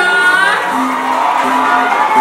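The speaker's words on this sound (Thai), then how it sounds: "โอเคปรบมือให้กับลูกด้านหน่อยได้ไหมจ๊ะ" Audience at a Thai Cleo bachelor six-pack show applauding and cheering: a dense wash of crowd noise with whoops and shouts, steady and loud throughout.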